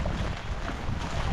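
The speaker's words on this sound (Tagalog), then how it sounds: "Yung hangin naman ay amihan." Amihan, the northeast monsoon wind, blowing at sea on an overcast, rainy day, a loud, steady broadband rush buffeting the microphone with low rumble throughout.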